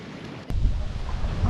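Strong wind buffets the microphone at the shore of Sampaloc Lake, a sudden low rumbling gust starting midway and roaring on steadily without any voices.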